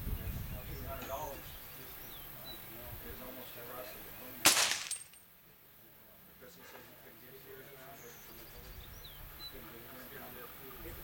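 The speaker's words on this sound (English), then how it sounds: "we're getting ready to fire off another one at 50 yards" A suppressed Faxon ARAK 21 rifle in 300 Blackout fires a single sharp shot at a 50-yard range, a sudden crack midway that drops into quieter outdoor ambience, with voices talking around it.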